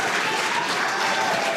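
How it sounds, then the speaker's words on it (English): Crowd applause breaking out back on Earth during the live broadcast of the Polaris Dawn spacewalk, a steady, close, dense clatter of clapping that holds through the short moment. "I have a feeling the crowd is about to go wild."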